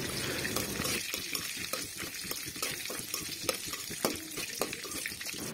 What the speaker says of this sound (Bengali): কড়াইতে তেলটা পর কিছু পরিমাণ শুকনো মরিচ আমি ভেজে নিলাম ভালো করে